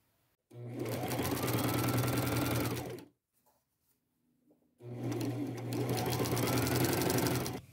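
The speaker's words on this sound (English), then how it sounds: "And now I'm going to sew these together just like I did that bottom tier." A sewing machine zigzag-stitches the seams of a patchwork maxi skirt in two long, loud, continuous runs, each a few seconds long, separated by a short quiet pause with faint handling.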